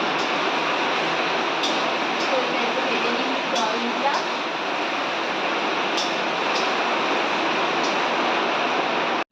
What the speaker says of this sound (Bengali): তো এই যে বাইরে এখন বৃষ্টির আওয়াজ।